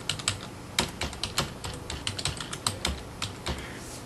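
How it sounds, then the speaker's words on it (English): Fingers type on a computer keyboard, a quick, uneven run of crisp, close key clicks with short pauses between bursts and no voices. "I type in"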